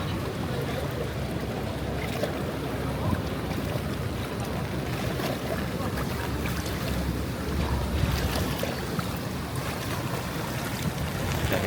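Steady engine drone and rushing water as a boat travels through flood water over a flooded road from Apalit to Macabebe, with wind buffeting the microphone throughout.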